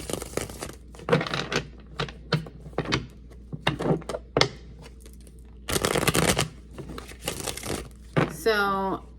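Tarot cards being shuffled with papery riffles and soft slaps, mixed with a person talking nearby and a few bumps.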